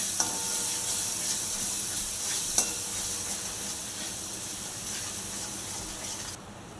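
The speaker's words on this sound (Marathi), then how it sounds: "मसाले तेलात परतून घेतले" Spices and homemade chili paste sizzle steadily in hot oil in a pan, with a continuous hiss broken by occasional stirring scrapes, close and uninterrupted before cutting off abruptly at the end.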